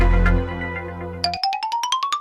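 A phone rings while a call is being placed: after a low steady hum, a bright electronic ringtone starts and repeats as a series of quick pulsing beeps that step slowly upward in pitch, clear and alone with no voices.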